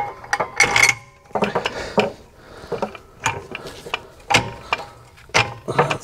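Ratchet clicking in repeated bursts while a lower control arm bolt is tightened in the wheel well of a 30-year-old Ford Thunderbird Supercoupe, the close, sharp ratcheting coming in short spurts separated by brief pauses.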